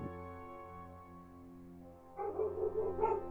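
Dogs bark faintly in the background, a short burst and then another, over a steady, quiet tonal drone, with no talking.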